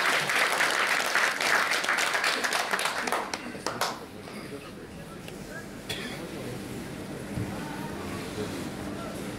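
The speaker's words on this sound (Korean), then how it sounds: "큰 박수로 해 주시기 바랍니다." An audience at a Buddhist association inauguration ceremony in Daegu breaks into loud applause, which fades after a few seconds into quieter room noise with scattered claps.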